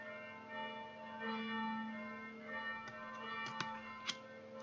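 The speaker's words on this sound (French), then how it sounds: "vous avez les cloches qui sonnent pour vous" Church bells ring faintly in the distance. Their sustained tones hang over a quiet background, with a couple of brief louder strikes near the end.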